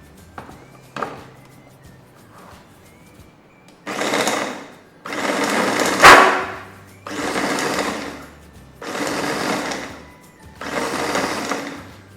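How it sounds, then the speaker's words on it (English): A mixer grinder powdering leftover bread edges, running in five short loud bursts of a few seconds each with pauses between, the whirring sound close and harsh. "Here we've finished powdering the bread edges."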